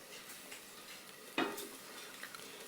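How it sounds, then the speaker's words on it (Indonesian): Shallots, garlic, galangal and candlenut sautéing in a pan for chicken soto give a faint, steady sizzle, with one sharp utensil clack partway through. "Udah dimasukin ini bawang merah, bawang putih, lengkuas, miri. Kita tumis sampai harum."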